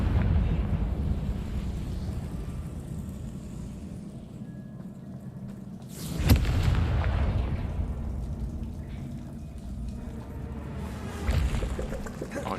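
Confringo fire spell blast in the Hogwarts Legacy video game: a sudden broadband burst near the middle, swelling loudly over a rumbling ambient bed and trailing off, with a smaller surge near the end.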